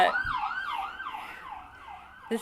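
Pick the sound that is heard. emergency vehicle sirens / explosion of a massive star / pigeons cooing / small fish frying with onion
emergency vehicle sirens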